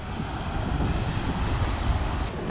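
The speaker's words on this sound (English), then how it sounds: "Look at these waves, they're absolutely ripping." Ocean waves at a shore inlet on an outgoing tide make a steady broadband roar of surf, close and continuous, with wind buffeting the microphone and no talking.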